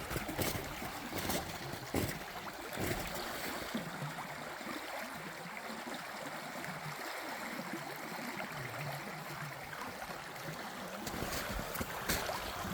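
Creek water flows steadily around a submerged branch and debris at Big Beef Creek near Bremerton, Washington, a continuous, faint rushing wash with light wind noise and no voices.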